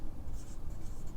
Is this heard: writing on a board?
yes